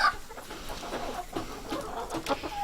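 Chickens in a main barn coop holding about a hundred birds cluck and squawk in a busy, overlapping chorus, close by and fairly loud.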